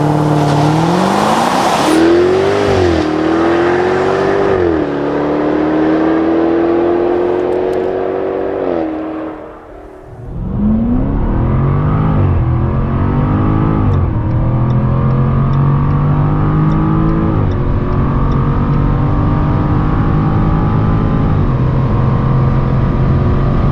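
Jaguar F-Type R P575 launching hard under launch control, its engine roaring loud and close through rapid upshifts, a brief dip around one gear change, then pulling strongly at high revs to the end with no talk.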